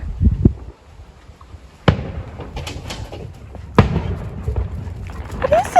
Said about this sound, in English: What is it? Fireworks. For Canada Day.